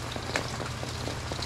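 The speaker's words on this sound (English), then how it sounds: "obviously it's raining" Rain falling outdoors, a steady dense patter hitting surfaces, with a few scattered louder drips standing out, fairly soft and even throughout.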